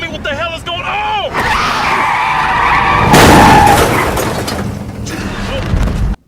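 A movie sound effect of a car skidding and striking a person: a long tire screech, then a sudden loud impact crash with a scream, clattering debris, and an abrupt cutoff.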